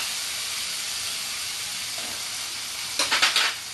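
Raw jackfruit and prawns fry in a pan Bengali style, giving an even, close sizzle that ends in a short burst of louder scraping and crackling as the pieces are stirred.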